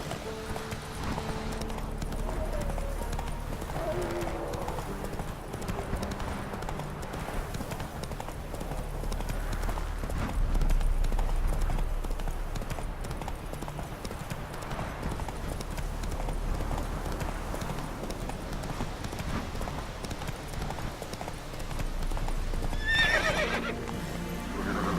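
A horse in the game Witcher 3 gallops with steady hoofbeats throughout, close and prominent, and gives a neigh near the end, with background game ambience.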